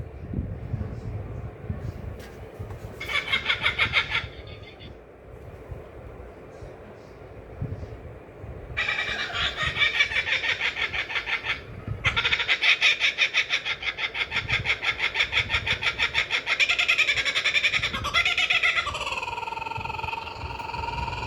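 Kookaburra laughing calls ring out in bursts, a raucous rhythmic cackling that rises and falls, loud and near, with pauses between outbursts and a few quieter stretches in between.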